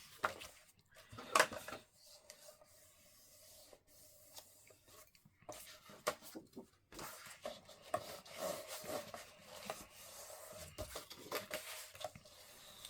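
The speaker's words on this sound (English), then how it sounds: "And I am going to burnish, fold and burnish my score lines." Score lines on paper are burnished and folded for a craft album: faint, intermittent rubbing and scraping strokes with soft taps and quiet gaps between them.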